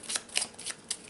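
Onirim game cards riffle-shuffled by hand in a quick run of four crisp, papery bursts close up, with no talking.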